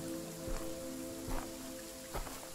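Steady rain hiss in the video game Visage fills the background, with three brief louder splashes or thuds standing out at regular intervals over a low, sustained hum.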